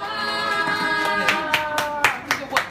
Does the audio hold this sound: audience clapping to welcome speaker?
yes